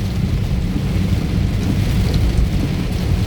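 Heavy rain pours steadily on the road between Cumilla and Dhaka, a dense, constant hiss with a deep low rumble beneath it and no voices.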